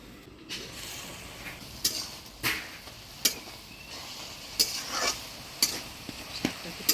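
Leafy greens (saag) stirred in a frying pan in a village Bengali kitchen: soft sizzling underneath, with a series of sharp spatula scrapes and taps against the pan at irregular intervals, close and fairly quiet.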